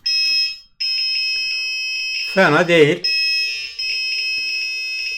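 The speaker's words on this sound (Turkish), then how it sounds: "Şimdi küçük buzzer'la test edelim." A small piercing electronic buzzer in a homemade doorbell circuit powered by a 9-volt battery beeps in a steady repeating tone, loud and close, breaking off briefly while someone speaks over it, then resuming.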